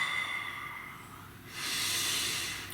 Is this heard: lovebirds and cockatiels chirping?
no